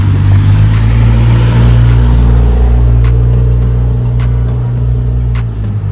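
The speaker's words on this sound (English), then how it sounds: "Let's wait for the annoying vehicles to leave." Vehicles rumble past a home vegetable garden, a loud, steady low engine drone that swells and fades slightly as traffic moves by, close, with no talking.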